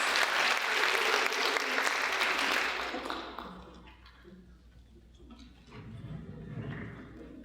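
Audience applause for a high school orchestra at a spring concert, loud and dense for about three seconds, then fading to scattered clapping with some murmuring in the hall.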